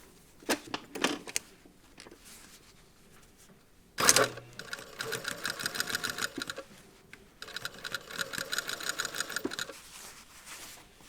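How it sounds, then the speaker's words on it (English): A sewing machine stitches along the teeth of an exposed zipper, with a few short hesitant bursts and a sharp clack, then two long runs of rapid, even stitching, close and clear. "So you have to be a bit careful, a little bit slower when you stitch along the teeth."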